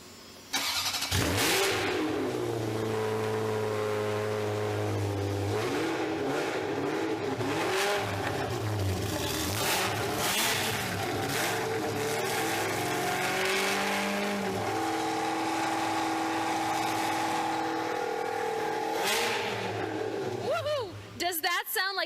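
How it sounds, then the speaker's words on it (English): A special Ferrari road car, likened to a Formula 1 sound, starts up and revs repeatedly at close range. Rising and falling engine notes swell and drop in sharp bursts, and people talk faintly around the engine noise. "you are about to hear a Ferrari, this special Ferrari, start up, and it's going to make quite the sound"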